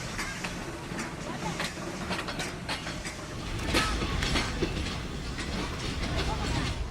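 Passenger train in Myanmar running on rails, a steady rumbling roll with rhythmic clatter and metallic clicks, growing louder midway through, with voices faintly present in the background.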